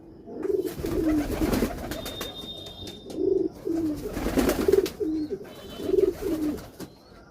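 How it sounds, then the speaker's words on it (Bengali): Pigeons cooing in their coop at night, several birds giving repeated soft, throaty coos in close, rhythmic phrases. "এই যে সবগুলো কবুতর"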